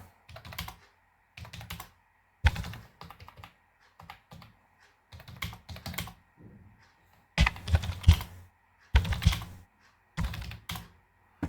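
Typing on a computer keyboard while entering data in Microsoft Word, close and clear, in irregular bursts of rapid key clicks separated by short pauses, with no talk.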